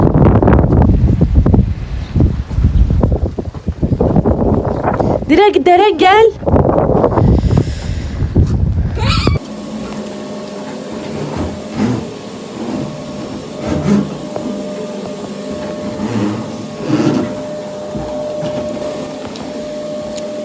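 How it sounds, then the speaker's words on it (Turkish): Stormy wind and rain outdoors, heard as a steady, loud rushing roar with gusty swells that takes over after a stretch of nearby talking. "Hava fırtınalı bir havaya döndü resmen."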